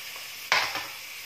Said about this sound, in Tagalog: igigisa muna natin ng sibuyas, bawang, at luya